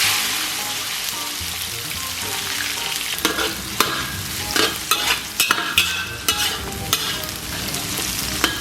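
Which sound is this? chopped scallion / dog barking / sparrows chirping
chopped scallion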